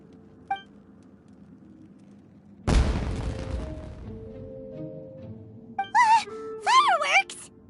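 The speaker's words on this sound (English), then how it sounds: "It sounded like fireworks." A single loud boom erupts in Genshin Impact, set in Inazuma, then rumbles and decays over a few seconds before game music and voice lines follow.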